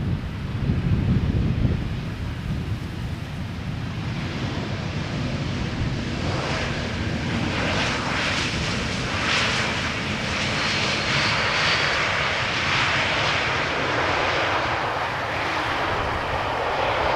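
A jet airliner arriving at Amsterdam Schiphol from London Heathrow produces a sustained, fairly close engine roar with a deep rumble, swelling and thickening through the middle before holding steady.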